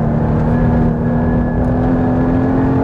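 Porsche Cayman GT4 with its 3.8-litre engine pulling on the road, a loud, steady, close engine drone with a strong sustained tone and no break for the whole short stretch.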